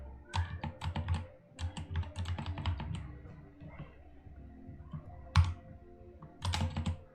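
Typing on a programmable computer keyboard, bursts of close, sharp key clicks in quick irregular runs with brief pauses, heard alone.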